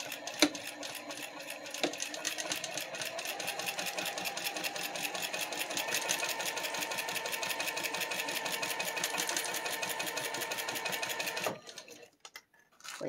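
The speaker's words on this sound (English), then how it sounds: "Sew along the side edge." Sewing machine running steadily at about a 2.5 stitch length, stitching a quilt along the side edge; a fast, even mechanical chatter close up that continues for about eleven seconds, then stops with a few faint clicks.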